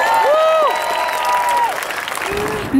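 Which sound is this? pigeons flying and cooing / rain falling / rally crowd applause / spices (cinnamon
rally crowd applause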